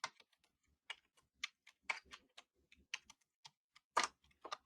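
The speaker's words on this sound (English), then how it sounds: "as I'm typing this" Someone types on a computer keyboard while entering a SQL query, producing irregular bursts of crisp, close key clicks with short pauses between words and no talking.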